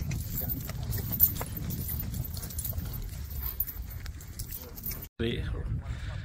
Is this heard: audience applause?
no